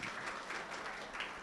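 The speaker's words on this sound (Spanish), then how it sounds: "reconocimiento y fuerte aplauso para él" Applause from a seminar audience at a plenary session, a steady broadband patter of many hands held at moderate, fairly faint level throughout with no speech over it.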